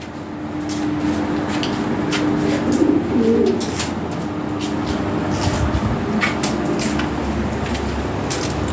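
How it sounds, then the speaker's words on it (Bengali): A pair of pigeons, fancy breeds kept in a home loft for sale, coo steadily and close by with low repeated calls over a constant background hum. "এই যে এইখানে এক পেয়ার কবুতর আছে"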